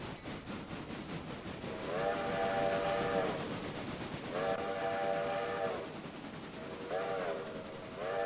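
A train in the Railroader video game rolls past with a steady rumble while its whistle sounds three times, two long blasts and a shorter one, fairly close and without talking.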